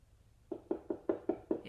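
Tapping on a wooden door: six crisp, evenly spaced knocks in quick succession after a brief quiet pause, fairly soft and close, with no voices.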